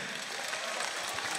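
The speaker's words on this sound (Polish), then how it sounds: "Wielkie brawa, Michał Handke!" Crowd applause at a FAME MMA fight event after the winner is announced: a dense, even wash of clapping that fills the brief moment.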